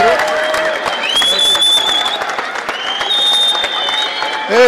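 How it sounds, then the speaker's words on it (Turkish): Applause and scattered cheering from a crowd welcoming an Austrian military search and rescue team, steady throughout with bright whistle-like tones and voices mixed in. "herkes alkışlarla karşılıyor onları"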